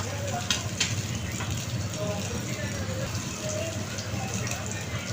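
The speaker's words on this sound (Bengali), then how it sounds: "মাছগুলোকে আমি উল্টিয়ে দিয়েছি একটু মুসমুসে করে আমি ভেজে নিব" Small puti fish fry in a pan until crisp, making a continuous sizzling crackle with scattered pops and spatters, while a faint voice can be heard in the background.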